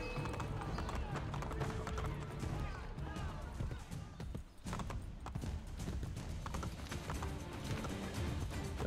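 Horse hooves clip-clop at a steady, rapid gallop through Assassin's Creed Brotherhood gameplay, running continuously with a brief dip midway, under game ambience and a voice.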